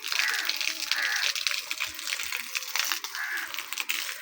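Water pours from a watering can with a shower-style spout onto sprouting vegetable plants in a sunny village garden, giving a steady hissing patter while someone talks over it.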